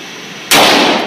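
A handgun fires a single sharp, loud shot at close range during target practice, its report ringing out briefly with no talking.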